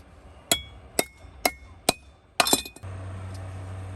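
Four sharp metallic hammer strikes at steady intervals while replacing a wheel bearing, then a quick cluster of clanks, followed by a low steady hum.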